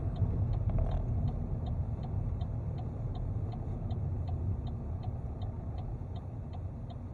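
Car turn indicator ticking steadily at a brisk, even rhythm over the low rumble of an idling car on a Dublin driving route, clear and continuous throughout.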